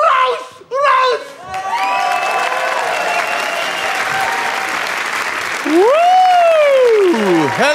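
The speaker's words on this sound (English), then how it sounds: "Will you please give a big huge round of applause for the amazing Mr. Jason Rouse!" Audience applause and cheering for a stand-up comedian coming on stage, a loud sustained roar of clapping with whoops and shouts, briefly dipping near the start before swelling again to the end.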